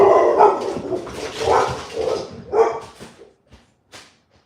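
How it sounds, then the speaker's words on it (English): Several dogs bark outdoors at night in repeated bursts of mid-distance barking, with short yips and gaps, fading to quieter barks near the end. "I don't know what they're barking at out there."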